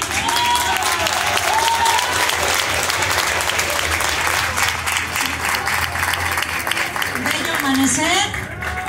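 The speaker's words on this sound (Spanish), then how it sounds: "un fuerte aplauso para Biosón" Sustained, dense applause from a large audience at a rondalla contest award ceremony in Xalapa fills the whole stretch, with an announcer's amplified voice speaking over the clapping.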